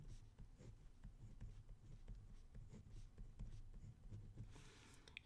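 Marker or pen writing numbers into a matrix on a board during a linear algebra lesson, a steady soft scratching and tapping of strokes running close and continuous throughout, with no talk.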